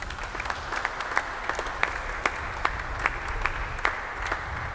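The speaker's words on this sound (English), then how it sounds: "Let us give these young men a round of applause." Congregation at a live morning Holy Mass applauding seminarians, a steady patter of many hands clapping at moderate volume in a reverberant church, with no voices over it.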